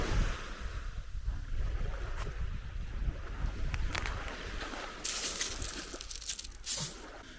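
Waves wash onto the beach at Stegna on the Baltic shore, a soft continuous surf with wind buffeting the microphone and a louder hissing surge near the end.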